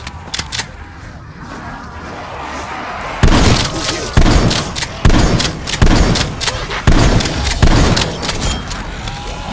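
Call of Duty zombies gameplay on the Die Maschine map brings a run of heavy booming blasts and gunfire-like bursts in repeated loud surges over a dense, noisy game soundscape.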